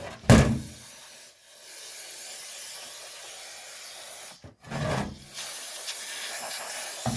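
Brake cleaner spray hissing in a long steady burst during a Peerless 700 transmission rebuild, then a pause and a second sustained spray, close and fairly loud.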